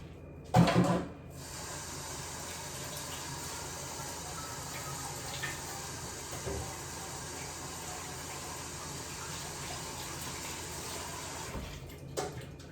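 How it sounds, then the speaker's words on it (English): Water from a kitchen tap runs into a sink to soak dishes, a faint steady stream after a brief louder clatter at the start, with a small knock near the end. "Putting this in the sink to soak."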